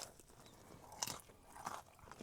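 Crunchy crust of a Papa John's cheese pan pizza bitten and chewed up close, a few soft crisp crunches spread over a couple of seconds, fairly quiet with no talking.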